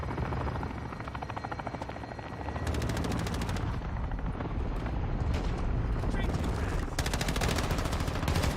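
Rapid bursts of automatic gunfire in Call of Duty: Modern Warfare 2 on a map full of bots, loud and close, running in dense repeated volleys with heavy rumbling combat noise underneath.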